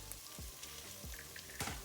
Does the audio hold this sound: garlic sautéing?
yes